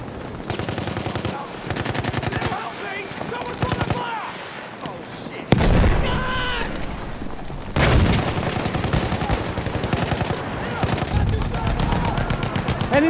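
Machine gun bursts and scattered gunfire in a Battlefield 1 Conquest match on the Achi Baba map, dense rapid rattling shots near and far throughout, with shouted in-game voice callouts over the firing.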